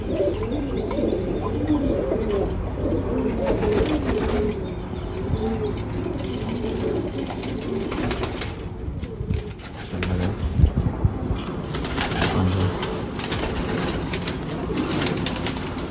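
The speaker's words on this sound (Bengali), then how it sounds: "খুবই সুন্দর পাখির কবুতর" Soft cooing of pigeons repeats steadily through the clip, with a few wing flutters and a busy background of other birds.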